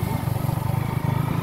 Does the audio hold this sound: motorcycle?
yes